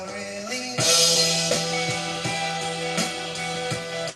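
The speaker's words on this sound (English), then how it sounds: "I want to play a little bit of the bass line first off of the original record" A funky bass line plays from a record with other instruments, a steady repeating groove, full and fairly loud throughout, no talking.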